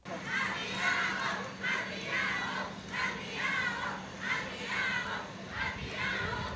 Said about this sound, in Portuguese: É o grito da euforia das crianças que pela primeira vez na vida vem um avião de perto